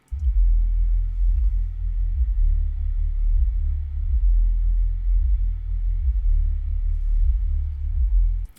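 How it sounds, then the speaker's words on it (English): A deep, steady sub-bass rumble in the roughly 20 to 60 hertz range, with almost nothing above it, felt more than heard, sustained evenly throughout. "listen to what this sub-bass range of roughly 20 to 60 hertz actually sounds or feels like"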